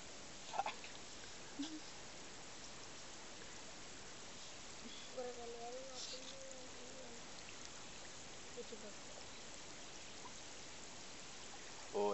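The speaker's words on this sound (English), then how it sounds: "Oh, it's black rain." Black volcanic rain falling near Tavurvur volcano, a steady close patter and hiss throughout, with a brief faint voice and a few louder knocks.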